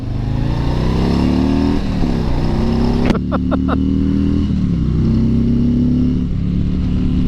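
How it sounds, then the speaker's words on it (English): Harley-Davidson Tri-Glide three-wheel motorcycle riding, its engine droning steadily and shifting pitch through gear changes, with a brief clatter midway and steady wind rush throughout. "Let's go out and ride the Tri-Glide, the Road Glide 3, or the Freewheel."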